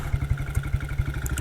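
A 1959 BSA motorcycle ridden on an icy road at around 3 degrees below freezing, its engine thumping in a rapid, even low-pitched beat while the throttle is feathered under braking, close and steady.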